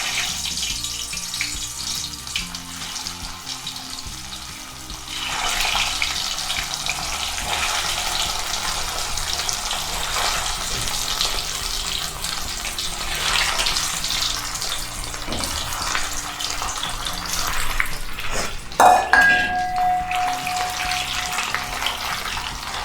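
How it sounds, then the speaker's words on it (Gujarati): Boiled potatoes fry in hot oil spiced with cumin, mustard seed and asafoetida for restaurant-style dum aloo, giving a steady, loud, close sizzle that runs throughout with no talk. "હવે તેમાં આપણે આ બાફેલા બટાટાને ફ્રાય કરવાના"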